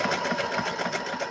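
A sewing machine runs steadily as it stitches a reinforced straight seam, its fast needle rhythm continuous and close up, with no voices.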